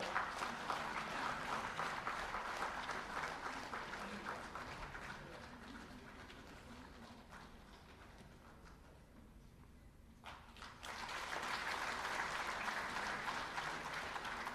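Steady audience clapping at a felicitation ceremony honouring school toilet construction, fairly faint and continuous, dipping briefly before swelling again near the end.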